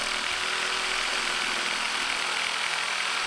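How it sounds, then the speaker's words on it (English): An electric shear cuts through a sheet of 090-thickness aluminum in a metal building workshop, a constant buzzing motor whine with harsh high-pitched grinding that runs unbroken and close throughout. "Here I'm using my electric shear to cut down an extra piece of aluminum I have"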